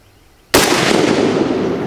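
A single loud rifle shot from a worn, high-round-count WASR AK-47 cracks out at close range during zeroing, its blast decaying into a long echoing tail.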